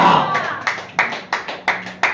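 A church congregation at a healing revival service claps hands in a steady rhythm, about half a dozen sharp claps close by, following a brief voice at the start.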